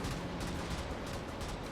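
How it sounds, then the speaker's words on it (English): Cannon fire and explosions from the mech combat game Brigador, a dense, continuous roar of blasts and gunfire packed tightly together with no pause, loud and close throughout. "I can destroy this now and catch some of you in explosions"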